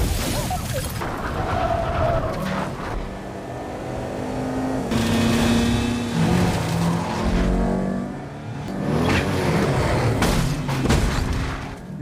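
A stolen police car tears through a film car chase, engines roaring loudly and continuously, punctuated by heavy booms and crash-like impacts, with no one speaking.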